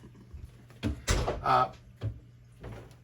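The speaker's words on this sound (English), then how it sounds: "The door flew open, all right." A door in a reptile room swings open with a quick clatter and thunk, a few bumps and knocks following close by over a low background hum.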